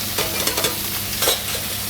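A hot pan being deglazed with the soaking liquid from rehydrated morel mushrooms, giving a loud, continuous sizzle with bursts of sputtering and a stirring scrape midway, heard up close without talk.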